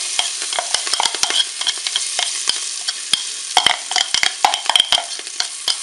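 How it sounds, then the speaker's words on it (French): Parsley and garlic fry in a Cookeo multicooker set to browning mode, producing a bright, dense crackle with many sharp pops and clicks of stirring scattered irregularly, close and fairly loud, with nobody speaking. "Je vais commencer par mettre mon persil et mon ail."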